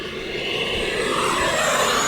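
Combat jet roaring at full throttle in a flight game, a loud broadband rush that builds and holds steady with a rising whine, no voices over it.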